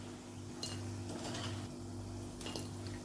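Crisp fried rice-flour bhaji are lifted from hot oil onto a plate with a small slotted spoon, giving a few light metallic clinks and scrapes over a faint background hum.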